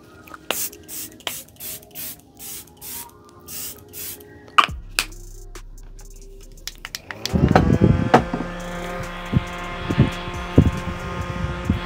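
Charlotte Tilbury makeup setting spray is pumped in about eight short, evenly spaced hissing bursts, close and fairly loud, followed by quieter handling clatter and rustling.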